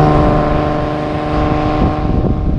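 A 1939 BMW 327/28 sports convertible with its six-cylinder engine driving along a winding road, a loud continuous engine drone with steady pitch and wind, heard close up with no talking.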